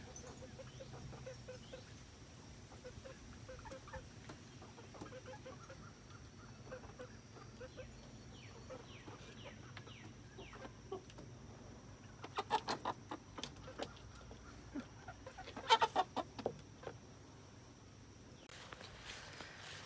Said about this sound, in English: Mr. Rooster is losing his patience with me